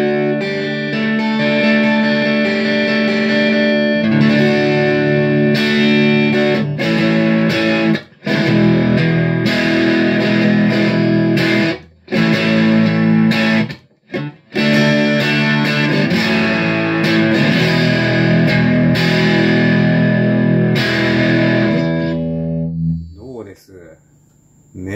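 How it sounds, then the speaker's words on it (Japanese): An electric guitar played through a BOSS BD-2 overdrive and a Vanzandt STV R-1 distortion, giving loud, sustained, richly distorted chords and riffs with a few brief stops before ringing out at the end. "すごく品のある歪みですね。"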